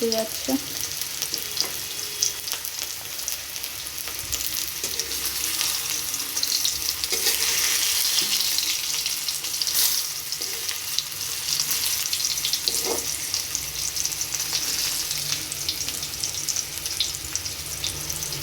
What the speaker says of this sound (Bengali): সবগুলোকে ভালো করে ভেজে নিচ্ছি